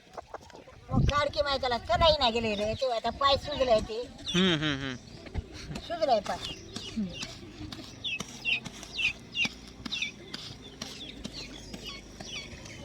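A lame village hen with a plastered leg clucks and calls in short bursts, fairly close, while someone talks loudly over parts of it.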